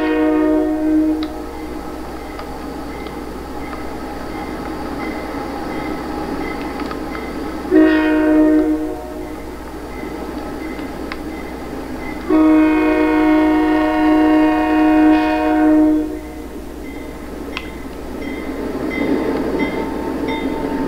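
Bachmann and Athearn model train locomotives running as a multiple unit with hoppers, steel coil cars and gondolas on a DC layout, giving a steady low motor hum with two louder tonal horn-like bursts partway through.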